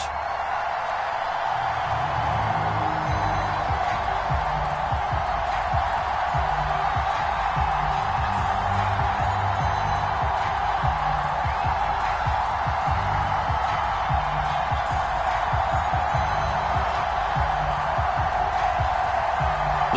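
A sold-out football stadium crowd roars steadily as the Buffalo Bills take the field before a game against the Los Angeles Rams, a dense, continuous wash of cheering heard from a distance, with a faint broadcaster's voice beneath.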